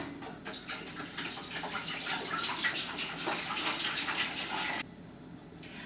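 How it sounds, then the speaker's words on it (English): About two gallons of soured raw milk pour steadily into a large pot in a continuous, close gushing stream that cuts off abruptly near the end. "We're going to pour this milk into a pot that'll hold it."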